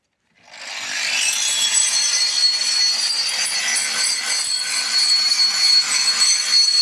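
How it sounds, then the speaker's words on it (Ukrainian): An angle grinder starts up and runs continuously in a smithy, a loud, steady high-pitched whine with rough grinding texture and no pauses. "Болгарка робить."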